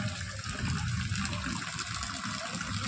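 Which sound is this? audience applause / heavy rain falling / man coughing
heavy rain falling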